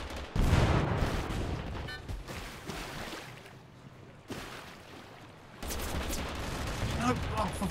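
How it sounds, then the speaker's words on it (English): Gunfire in Totally Accurate Battlegrounds cracks out in loud bursts with short gaps between volleys, mixed with a voice talking over the shooting. "I got people shooting at me"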